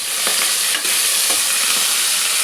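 Lentil curry seasoning with fenugreek leaves fries in a pan for pappu charu, a loud, dense, close sizzle with a few soft stirring scrapes.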